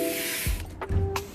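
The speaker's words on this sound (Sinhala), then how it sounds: "මුලින්ම වෝටර් ස්ප්‍රේ කරගන්නවා මොනා කරගන්නත් කලින්." A hand spray bottle mists water onto curly hair, giving short hissing spritzes, about three close bursts within a second or so against a steady background hiss.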